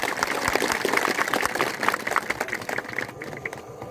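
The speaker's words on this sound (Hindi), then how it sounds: "जरा जोरदार ताली हो जाए।" A crowd at a Shabari Jayanti gathering for tribal communities in Alirajpur district breaks into vigorous clapping, a dense, continuous patter of many hands heard at moderate distance that tapers off near the end.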